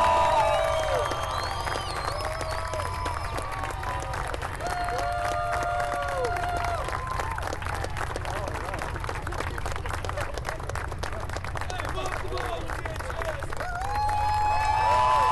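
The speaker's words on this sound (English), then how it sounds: "One more round of applause, ladies and gentlemen." A crowd at a Veterans Day tribute parade in Clarksville applauds veterans with sustained loud clapping and some cheering that swells at the start and end. An announcer's voice comes through over it.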